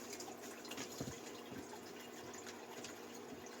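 Hot tap water runs steadily for sparging grains on a home brew day making a ginger NEIPA, a soft continuous splashing flow heard close but faint.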